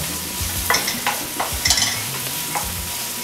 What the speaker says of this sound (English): onion, garlic mix over medium heat, and we're going to let this saute until the onions are a little translucent